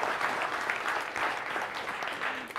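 A presentation audience breaks into dense, sustained clapping that holds steady without a break, filling the room with a broad wash of applause.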